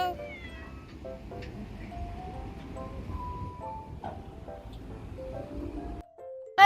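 Several cats meow in a series of short, thin calls at irregular intervals, some near and some farther off, over a soft, low background murmur.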